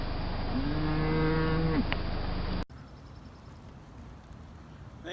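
A cow on a family farm gives a long, drawn-out moo, loud and fairly close, before the sound cuts abruptly to quiet outdoor ambience.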